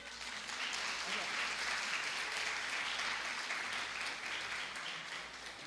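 A church congregation applauds steadily during an evening Sunday service, a sustained wash of clapping at moderate distance that fades slightly toward the end.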